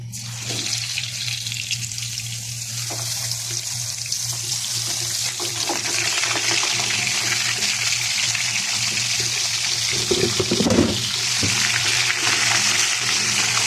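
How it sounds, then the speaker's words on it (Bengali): Fish frying in hot oil gives a steady, close broadband sizzle that holds for the whole stretch, with a low hum underneath and no talking. "এখানে তেলটাও গরম হয়ে গেছে আমি এখন মাছটা দিয়ে দিব"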